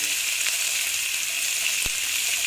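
Chopped onion fries in a pan with a steady, dense sizzle that stays even and fairly loud throughout. One faint tap or stir is heard partway through.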